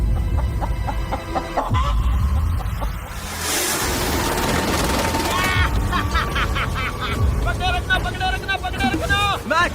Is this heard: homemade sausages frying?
no